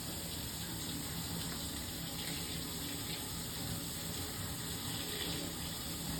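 A tap runs in a steady, even stream as fingers are held underneath and a nail pick is run under each fingernail.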